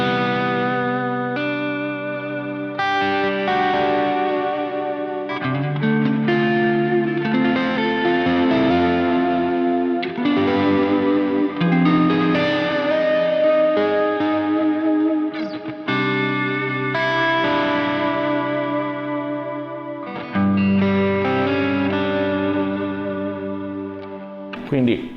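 An electric guitar runs through a Quad Cortex pop rock live preset, its distorted, chorus-washed tone ringing out in steady chords and melodic lines, close and full, with brief pauses between phrases.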